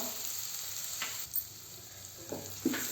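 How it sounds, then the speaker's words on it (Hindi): A moong dal mixture with ground green chili and ginger fries on low flame in a pan, sizzling softly and steadily with occasional stirring scrapes and light knocks, close and without talking. "थोड़ा सा आधे मिनट के लिए हम इसे भून लेंगे।"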